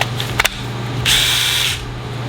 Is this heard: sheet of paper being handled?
no